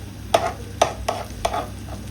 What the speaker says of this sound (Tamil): பார்த்தீங்கன்னா வெங்காயம் இதெல்லாம் வதங்கினது ஓகே.